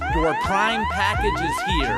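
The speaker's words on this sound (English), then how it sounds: "Then I recorded a custom alarm that sounds like this" A homemade motion-triggered alarm, built around a camera, flashing Wi-Fi bulbs and an Echo speaker, plays a loud custom-recorded voice announcing a Prime package over wailing, siren-like sweeping tones that repeat for two seconds.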